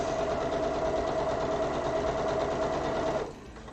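A sewing machine stitching a rainbow hexie baby quilt runs in a steady, fast, loud whir for about three seconds, then stops abruptly.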